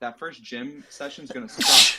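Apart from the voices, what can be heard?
sneeze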